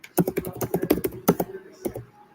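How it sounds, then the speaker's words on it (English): Rapid typing on a computer keyboard, a close burst of sharp key clicks in uneven rhythm that slows and trails off near the end. "Oh, I love the sound of typing."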